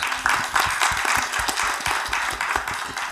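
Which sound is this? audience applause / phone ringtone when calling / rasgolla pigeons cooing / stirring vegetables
audience applause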